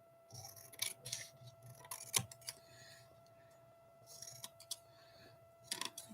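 Scissors snipping pieces out of a magazine, close and quiet, with short clusters of crisp snips separated by pauses.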